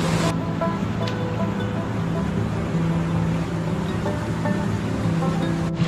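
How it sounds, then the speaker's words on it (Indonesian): Mountain river flowing beside the Gunung Gede hiking trail via Putri, a steady broadband rush of water heard close and continuous, with a low hum and faint murmurs in the background. "Dan ini ada sungai."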